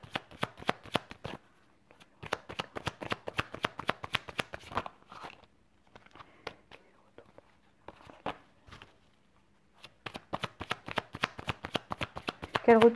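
Indigo oracle cards are shuffled close up in quick, crisp riffling runs, several bursts of rapid flicking separated by short quiet pauses.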